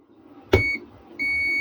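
Two short electronic beeps from a clamp meter during a diode test, each a steady high tone. The first is a brief chirp with a click, and the second is a longer sustained bleep near the end. Nothing else is audible.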